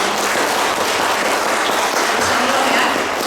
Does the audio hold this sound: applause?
yes